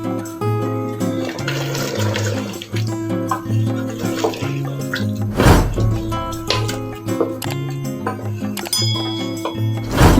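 About half a glass of water is poured into mutton cooking in a pan for bhuna gosht, a spiced mutton fry. The watery splashing and sizzling is close and continuous, with a sharp louder burst about halfway through over a low steady hum.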